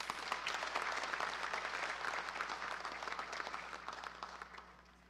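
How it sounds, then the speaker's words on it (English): An audience claps for a group of top-performing students at a national education results ceremony, with dense steady applause that swells early and slowly thins toward the end. "I think we should give them a round of applause"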